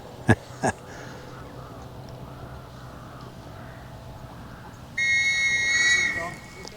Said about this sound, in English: he's got the whistle in his mouth, he's about to blow it